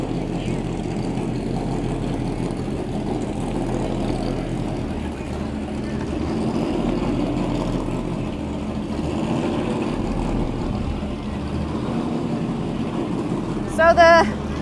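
A motorboat engine hums steadily near Key West's Mallory Square at sunset, a continuous mid-distance drone, with a short bright chirp near the end.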